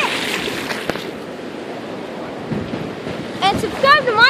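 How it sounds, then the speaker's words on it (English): Pacific Ocean surf rolls onto the beach at Seaside, Oregon in a steady wash blended with wind buffeting the microphone, with faint voices and a bird-like chirping near the end. "the beautiful Pacific Ocean here at Seaside, Oregon"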